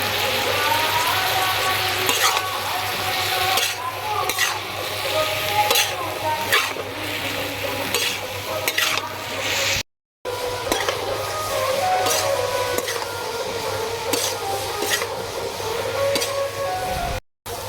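Lote shutki (dried Bombay duck fish) and kochur loti (taro stolons) sautéed with chilli powder and green chillies in a pan, loud continuous sizzling with frequent spatula scrapes and metallic clinks against the pan, briefly cut to silence twice.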